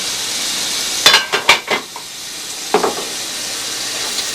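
A grilled cheese sizzles in a pan with a soft continuous hiss, broken by a cluster of sharp scraping and tapping sounds from a spatula and then a later pair of knocks, no one speaking.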